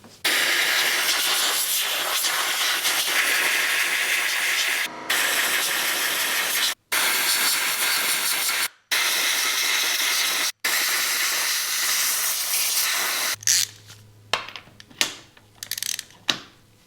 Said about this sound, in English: take an airline and blow out those holes so everything's spotlessly clean